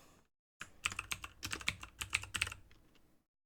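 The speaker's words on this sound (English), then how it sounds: "This is a mechanical gaming keyboard by E-Element." Rapid clicky keystrokes on an inexpensive E-Element mechanical gaming keyboard with blue switches, a close, crisp burst of typing lasting a few seconds before stopping.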